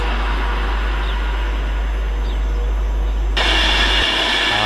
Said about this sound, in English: next up, another Pendolino.